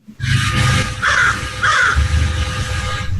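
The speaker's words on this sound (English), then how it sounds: "it's another type of bird from the Luke Smith residence" A bird calls near a home, giving two harsh, caw-like cries about half a second apart over a steady, loud background rumble.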